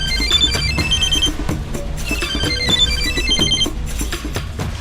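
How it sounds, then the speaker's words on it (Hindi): Telephone ringing loudly and continuously, a bright electronic ringtone with repeating high chirping tones over a low background, with no voices. "सर, आपका फोन।"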